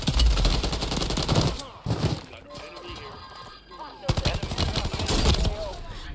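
Bursts of rapid gunfire from Call of Duty Warzone on Rebirth Island, loud and dense, with a quieter gap in the middle before another heavy volley; someone talks over the shooting.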